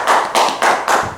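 Four slow, loud claps in steady rhythm, close by, as two women named Heather-Rain and Maddi sit down at a podcast recording with Melbourne steak reviewers, no talk over them.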